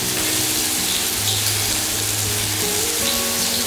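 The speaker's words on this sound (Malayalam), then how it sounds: "ഇതിലേക്ക് നമ്മൾ അല്പം ജിഞ്ചർ ആൻഡ് ഗാർലിക് അത് നന്നായിട്ട് ചോപ്പ് ചെയ്ത് ചേർത്ത് കൊടുക്കുന്നു" Chopped ginger and garlic fry in hot vegetable oil for soya Manchurian, a steady loud crackling sizzle held close and unbroken throughout.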